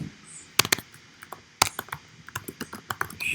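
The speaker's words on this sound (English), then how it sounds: "So next thing is that I need to type the password." Close, crisp keystrokes tap out a password on a computer keyboard in an uneven run of quick clicks, the pace quickening toward the end.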